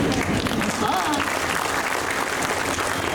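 Clapping from a seated audience at a farmers' and entrepreneurs' training-centre event at a cow shelter, a steady, even wash of hands that holds at one level for the whole stretch.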